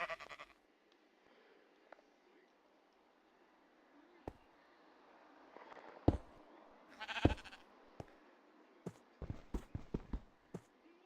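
Minecraft sheep bleat several times, scattered short calls that grow busier toward the end, mixed with faint game footsteps and clicks, no voice over them.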